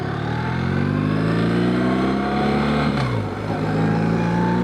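A BMW R1300GS motorcycle engine hums steadily and smoothly rises in pitch as it pulls away, with a brief gear change near the end, loud and close.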